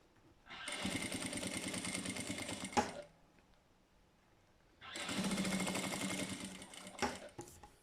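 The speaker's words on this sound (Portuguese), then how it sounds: "vamos passar aqui uma costurinha, aplicando desta forma o viés nos 4 bolsos" Sewing machine stitching bias binding onto the four pockets of a handbag, two steady bursts of fast rhythmic running stitches separated by a pause, close and fairly loud, with a few mechanical clicks as each run stops.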